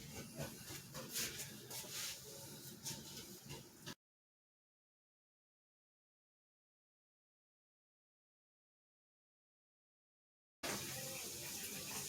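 Water drains from a water tank through a pipe with a steady hissing rush, loud at the start, then breaking off into full silence before returning just as strongly.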